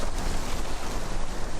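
Wind and waves buffet a small island in the river near a village, a steady broadband rush of gusting wind with lapping water beneath, close and continuous with no talking.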